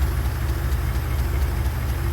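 A 1982 Mercedes 380SL roadster's 3.8 liter V8 idles with the hood open, giving a steady, close, low rumble with even pulsing and no talking.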